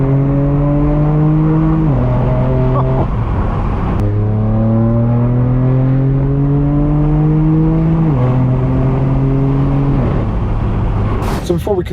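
A straight-piped BMW M4 F82 revs and shifts loudly up through gears on downtown Los Angeles streets at a car meet, with a steady harmonic engine drone that drops at each shift, plus a short crackle near the end.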